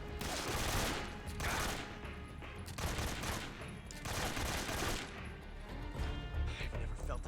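Rapid gunfire bursts in the Metal Gear Solid 3 Ocelot boss fight, dense overlapping shots with game music and ambience, loud and continuous over several seconds.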